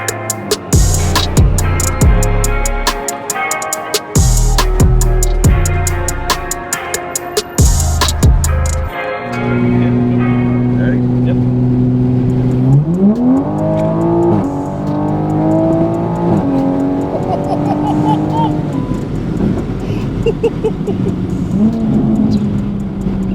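A tuned 800 hp Toyota Supra A90 with methanol injection, loud and close, blips and revs in sharp bursts, then accelerates hard through rising gears in a long, continuous climbing engine howl.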